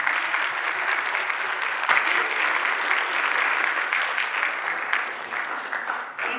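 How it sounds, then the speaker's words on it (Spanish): Steady applause from an audience at a university law conference, a dense, even wash of many hands clapping throughout without a break. "Le damos un aplauso al doctor Benito."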